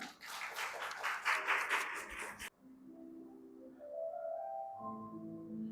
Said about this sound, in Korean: 따뜻한 박수로 맞아주세요.